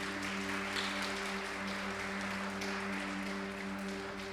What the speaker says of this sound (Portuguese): Você que tem 2 mãos, dê um aplauso ao Senhor